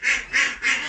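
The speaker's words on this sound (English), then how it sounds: "every time I make a video, my ducks always come to greet yous" Ducks on a rural property give three loud, close calls in a steady rhythm, each a harsh nasal burst, with no talking over them.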